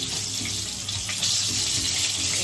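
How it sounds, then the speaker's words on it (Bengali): Boiled potatoes dropped into hot oil for prawn biryani set off a steady, bright sizzle that stays loud and even throughout, close by with no talk. "এবার তেলে আমি আলুগুলো দিয়ে দেবো। এগুলো সেদ্ধ করা আলু"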